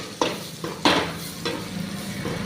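Oil sizzles steadily in a pan as chili powder and turmeric fry, with a few sharp stirring scrapes and clinks breaking through the crackle.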